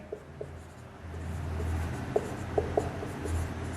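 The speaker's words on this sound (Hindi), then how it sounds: "यहां मैं लिख देता हूं पॉइंट टाइप में" Pen on paper as study notes are written by hand in point form, a soft continuous scratching with a few sharper taps over low room hum.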